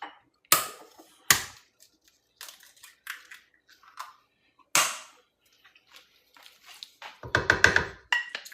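Three whole large eggs cracked one after another into a bowl, giving several sharp, close taps and cracks spaced across the moment, followed by a brief wet burst as the contents drop in.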